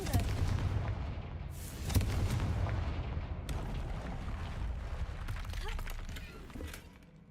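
Confringo fire spell blasts in the video game Hogwarts Legacy, booming fiery explosions with rumbling low end and crackling debris, loud and layered over game music and effects.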